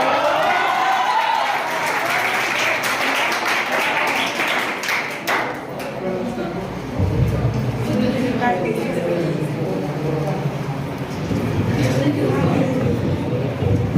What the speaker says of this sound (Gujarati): આદિત્ય માટે તાળીઓ પાડી દો.